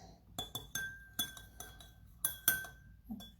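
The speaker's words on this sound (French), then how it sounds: "Je vais touiller." Vinali being stirred in a glass of Betadine, a spoon striking the glass in a string of sharp, ringing clinks at an uneven rhythm, close and fairly quiet, with no other sound.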